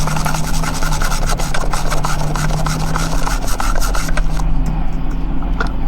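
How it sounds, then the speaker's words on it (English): Eraser rubbing out a coloured pencil drawing, a close, continuous scratchy scrubbing with quick back-and-forth strokes against a steady low background hum. "Take out my trusty eraser."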